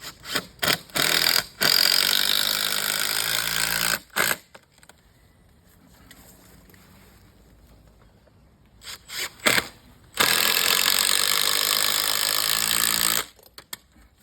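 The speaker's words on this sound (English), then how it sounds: "so I'll just screw this in" A power screwdriver drives screws into the wooden top of a hurdle in two long, loud whirring runs of about three seconds each. Short clicks and quieter handling noises fill the gap between the runs.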